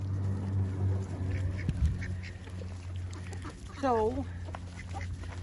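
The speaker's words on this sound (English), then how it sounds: "this green duck, or the brown duck with the green head, is a mallard" Mallard and Cayuga ducks on a small family farm, given watermelon, let out a short quacking call midway through, mixed with the faint background din of other fowl and a few spoken words.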